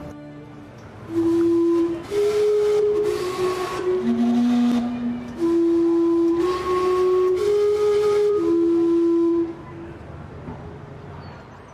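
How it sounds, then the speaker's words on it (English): The steam-powered clock in Gastown, Vancouver, fed by the city's downtown steam system, sounds the Westminster chime on its rooftop steam whistles: loud, sustained whistled notes in a slow melodic sequence with breathy steam hiss, fading at the end. "It taps into the city's downtown steam system, powering the steam whistles on top of the clock, which then do the Westminster chime."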